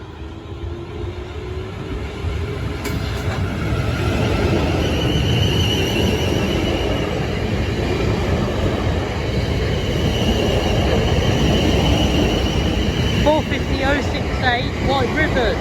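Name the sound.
train passing Camberley level crossing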